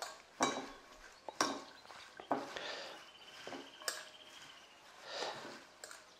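Utensils clink and scrape through a wild salad being tossed with olive oil in a bowl, a few distinct knocks followed by softer rustling stirs, close and moderately quiet with no speech.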